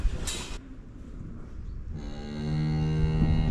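Cattle being loaded onto a farm trailer give a long, low moo that swells in the second half, over a background of shuffling and clatter.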